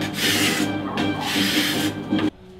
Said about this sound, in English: And I'm just scraping to get that glue off.